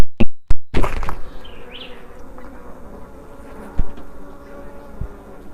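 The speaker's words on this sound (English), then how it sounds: "maybe I can make it through this hive without getting stung." Honey bees buzzing around an open hive, a close, continuous drone after a few sharp knocks at the start, with a couple of faint taps later.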